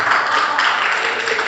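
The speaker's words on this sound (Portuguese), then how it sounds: "E uma linda salva de palmas para Jesus" Steady, dense applause from a church congregation fills the whole moment, an even wash of clapping without breaks.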